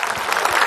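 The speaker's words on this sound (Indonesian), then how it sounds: "tepuk tangan buat Kinos." A studio audience breaks into a short burst of applause for a young presenter at a Ramadan religious talk show, loud and close for under a second.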